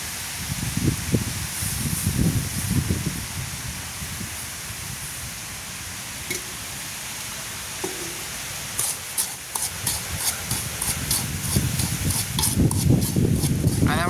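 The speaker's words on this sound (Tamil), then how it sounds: "அண்டை காத்து நல்லா பயங்கரமா இருக்கு" Strong wind gusting across an open outdoor village cooking spot, a steady broad rushing roar with bursts of buffeting throughout, loud and close, with faint clatter here and there.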